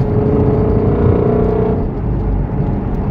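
A Ford GT350 accelerating on cold pavement while its tires struggle for grip, heard as a steady, loud engine roar with road and wind noise, close up from inside the car and with no talk.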